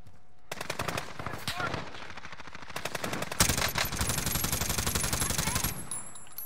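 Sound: gunfire in the video game Warzone

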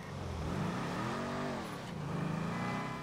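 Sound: video game sports car accelerating fast

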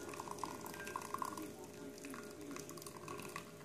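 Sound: pouring hot water for tea

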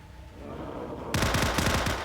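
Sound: video game gunfire

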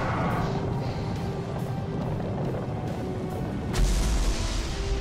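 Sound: gunfire and explosions in the video game Destiny

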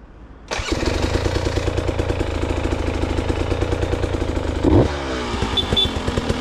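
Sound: KTM 300 EXC TBI 2024 motorcycle engine running

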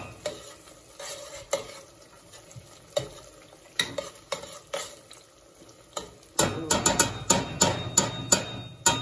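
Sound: onions simmering in a pot for jollof rice

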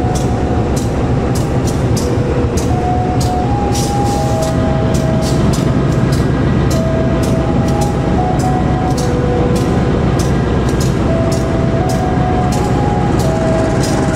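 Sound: passing train, Garut Cibatuan or Argo Wilis

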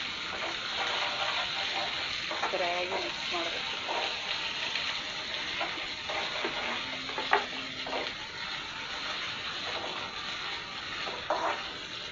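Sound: frying food in a pan

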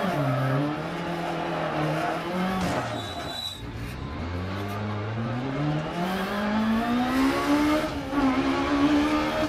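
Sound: rally car driving and skidding in video game DiRT Rally

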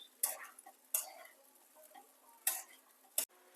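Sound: sabudana khichdi being stirred and sautéed in pan

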